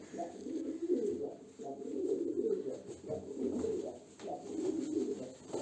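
Smoky pigeons coo in soft, repeated rolling phrases up close, a steady rhythm of low throaty calls with faint background rustle and no talking.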